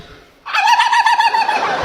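A man in a comedy show audience imitates a turkey gobble, a loud, close, warbling run of rapid throaty trills lasting over a second and standing alone with no talk around it.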